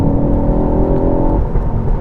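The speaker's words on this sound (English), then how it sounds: "pin the throttle to the floor" A Mk4 Ford Focus ST accelerating hard at full throttle on a public road, a loud close engine note rising with the revs inside the cabin, then easing off near the end, with no talk.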